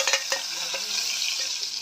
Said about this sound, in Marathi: त्याच्यानंतर मी जिरे ॲड करते